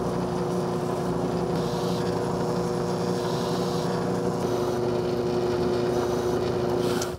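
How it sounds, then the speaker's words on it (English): A drill bores holes into a 3D-printed dagger part so screw heads can sit flush, giving a steady, continuous motor whine with a constant hum that holds for about seven seconds. "I'm gonna drill these holes out so that the screw head will fit right in there"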